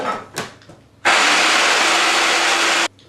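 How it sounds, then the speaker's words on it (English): A loud, steady blender mixing butter for a chocolate torte whirs for nearly two seconds after a few brief clanks, then cuts off abruptly. "that goes into the blender, and that gets mixed again"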